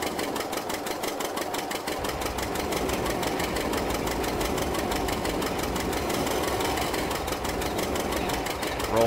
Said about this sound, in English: Pretty nifty little tractor, though.